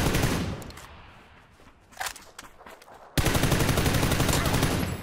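Gunfire in PUBG on the Paramo map: sparse shots and scattered clicks at first, then a sudden dense burst of rapid automatic fire that roars loudly and steadily to the end.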